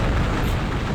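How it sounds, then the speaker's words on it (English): Magic missiles blasting in Hexen 2, a dense, continuous burst of booming, crackling energy that fills the whole second at steady loudness, with no talk over it. "Taste my magic missiles, fools."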